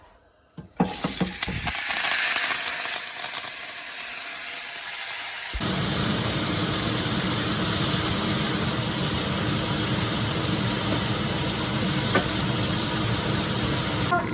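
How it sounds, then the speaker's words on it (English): Vegetables and herbs hit a hot pan for an osso buco and fry loudly. After a short quiet start, a dense, steady sizzle fills the air and grows fuller partway through, with no talking. "Now it's time to cook the vegetables and herbs I cut up earlier."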